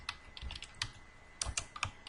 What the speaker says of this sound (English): so here I'm typing Bachelor of Science